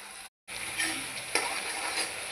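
Spices temper in hot coconut oil in a pan, giving a faint, continuous sizzle with a brief gap and soft stirring clicks.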